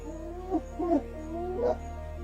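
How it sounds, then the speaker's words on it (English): African wild dogs feeding after a hunt on the savanna, giving close whimpers, yips and short high squeals in quick bursts over a steady low hum. "After every successful hunt, wild dogs must eat as fast as possible"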